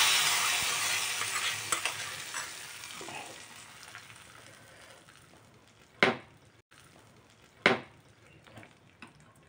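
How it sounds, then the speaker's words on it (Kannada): Spices temper in hot oil for a Mangalore-style ripe mango curry, an initial loud sizzle fading steadily over several seconds, followed by two sharp metallic clanks of a ladle or pan near the end. "ಈ ಒಗ್ಗರಣೆನ ಹಾಕಿಕೊಳ್ತಾ ಇದ್ದೇನೆ."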